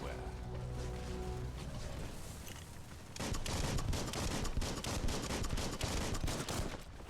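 Biomutant combat on hard mode: after a quieter stretch with speech, rapid automatic gunfire bursts in and keeps rattling loudly for several seconds, with a voice talking over it.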